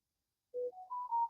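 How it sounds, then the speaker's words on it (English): A telephone in the background sounds a short rising run of three or four smooth electronic tones, faint and alone, in a quiet room. "Sorry about the phone in the background."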